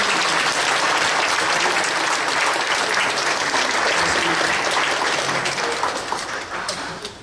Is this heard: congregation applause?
yes